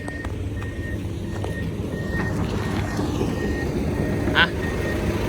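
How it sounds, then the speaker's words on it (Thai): A Kubota M135X tractor arrives at a lane-clearing worksite with a steady low engine rumble, joined by repeated high beeping and a brief louder noise near the end. "เจอกับรถไถครับ คูโบต้า M135X ครับ"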